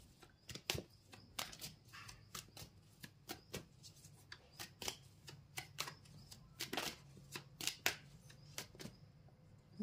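Tarot cards shuffled and drawn by hand, giving a steady run of crisp, close paper snaps and riffling clicks at an uneven rhythm, with no voices.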